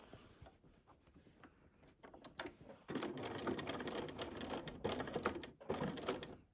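A sewing machine stitches down quilt binding in a few short, close runs of steady mechanical whirring and clatter, with brief pauses between bursts.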